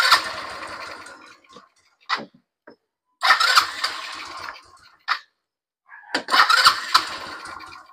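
A Rusi Passion motorcycle cranks on its electric starter in several separate bursts, each a loud whirring engine turnover with short gaps and faint clicks between attempts, heard close up with no talking.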